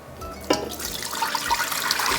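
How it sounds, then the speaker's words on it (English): Blackberry juice poured into a pot, a steady liquid splash and gurgle that starts abruptly and continues with bubbling, close and fairly quiet, no talk. "So we're gonna pour these in."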